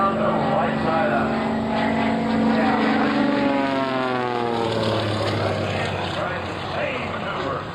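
A propeller-driven aerobatic airplane roars through a rolling maneuver at an air show, its engine pitch sweeping and wavering continuously as it passes, loud and sustained, while an announcer talks over it.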